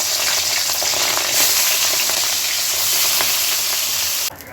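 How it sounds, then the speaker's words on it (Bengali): A fish tail frying in hot oil gives a loud, continuous crackling sizzle that holds steady throughout, close up, with no talking. "এখন লেজটাও ভেজে নিব।"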